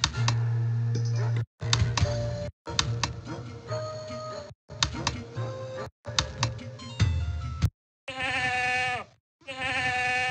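Goat bleat sound effect in a 1996 Sailor Dog interactive storybook activity-center game, linked to the Capricorn constellation: busy game tones and ticks give way to two clear, wavering electronic bleats near the end.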